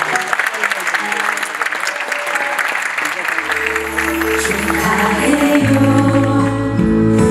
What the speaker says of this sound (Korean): 케이크 커팅 박수 부탁드립니다